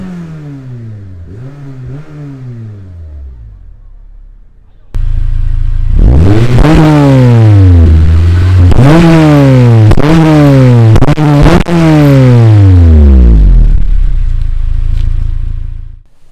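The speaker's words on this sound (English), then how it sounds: "Gonna fire it up so you guys can hear a little bit of that K20A goodness." Honda Civic Type R with a K20A engine, cranking and catching at first, then revving hard several times in rising and falling sweeps, loud and close, before settling back to idle.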